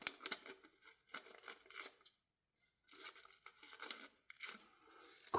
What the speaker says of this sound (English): Wonderful pair of scissors.